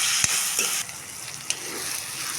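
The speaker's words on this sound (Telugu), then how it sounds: "లైట్గా ఈ ఆయిల్లో జస్ట్ ఒక్క నిమిషం అట్లా వేయించుకుంటే సరిపోతుంది" Green chillies sizzle in hot oil in a home kitchen, frying for potato-and-pea curry. A soft, steady crackle runs throughout, broken by a few sharp clinks of a stirring spoon against the pan.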